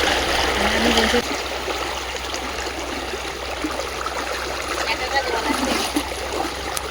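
Stream water flows over stones with a continuous nearby rushing splash, and voices can be heard talking over it.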